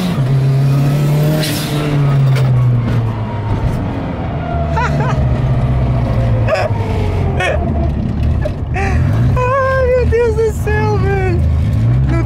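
A VW Polo TSI turbo hatchback on 18-inch wheels revs and accelerates nearby, its engine droning steadily with rising pitch sweeps and sharp blips toward the end, while people talk over it.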